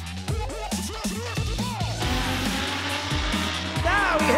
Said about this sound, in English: Drivers, start your engines. Green flag in the air, so we are racing.